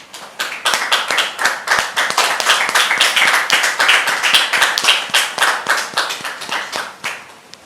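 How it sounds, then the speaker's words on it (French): Dense, loud studio audience applause with many hands clapping in a sustained burst that swells and then tapers off at the end, welcoming a guest onto a French-language talk show set. "On peut le recevoir, s'il vous plaît, sous vos applaudissements."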